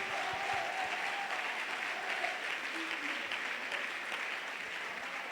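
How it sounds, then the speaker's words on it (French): Steady applause from a church congregation cheering the technical crew during a sermon, a continuous wash of clapping that holds level throughout, with faint talk and a brief tonal sound underneath. "acclamation aux techniciens"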